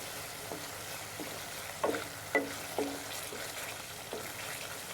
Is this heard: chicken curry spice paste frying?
yes